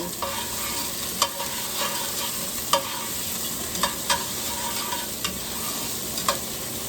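Minced garlic sweating with mirepoix vegetables in a pan, a low steady sizzle broken by sharp spoon clinks and stirring scrapes every second or so.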